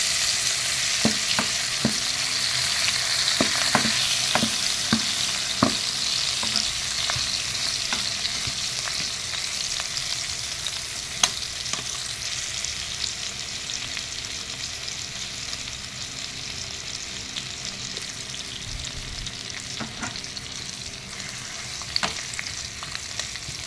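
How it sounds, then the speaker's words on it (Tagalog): Garlic and onion sauté in a pan for chicken hamonado, a steady bright sizzle with occasional spatula clicks early on, continuous and close, with no talk. "gisa-gisa muna natin guys ang bawang natin at saka sibuyas"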